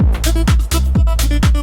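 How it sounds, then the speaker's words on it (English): Vocal in a tech house production chopped by a Gross Beat quarter-note gate, giving a rhythmic stutter with sharp on-off cuts in a steady repeating pattern, loud and up front with no talking. "Now I want to add an effect to the vocal, which you can hear in a lot of dance tracks nowadays, which is the gate effect."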